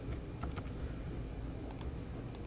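Quiet typing on a computer keyboard while entering a node name in Houdini 3D software: a brief run of light, uneven key clicks over a faint room hiss, with no voices.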